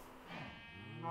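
A single sheep in the Survival Craft video game gives a drawn-out, wavering bleat, fairly faint and alone, rising slightly in loudness at the end.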